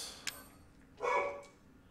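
A dog barks once in a short, moderately loud burst, preceded by a brief sharp click and followed by a faint higher yelp, against quiet background noise.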